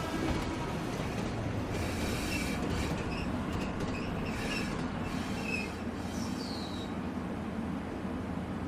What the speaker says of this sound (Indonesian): Minyak dan bahan bakar diangkut dengan kereta ekspres menuju Surabaya